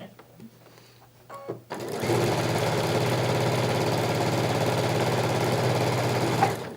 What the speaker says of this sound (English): we don't need to sew all of these to show what I'm gonna do next